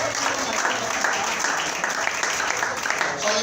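A church congregation applauding and cheering during a French-language worship service, a dense, steady wash of clapping filling the room throughout, with voices mixed in.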